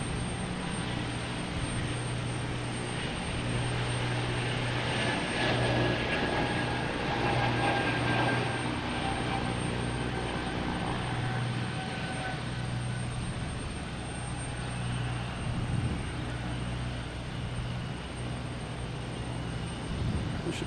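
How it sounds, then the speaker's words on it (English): A JetBlue airliner's jet engines at Boston Logan Airport, a distant, steady rumbling roar that swells slightly and holds for about twenty seconds, heard outdoors with no talk. "We have JetBlue heading to JFK."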